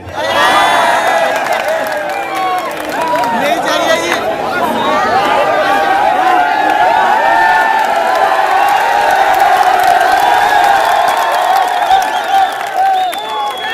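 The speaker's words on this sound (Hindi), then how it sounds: "आपकी इस बात पर जो लोग तालियां बजा रहे हैं" An audience at a mushaira poetry recital in Kandhla, Shamli applauds and cheers, a dense, continuous wash of clapping, whoops and crowd chatter sustained loudly throughout.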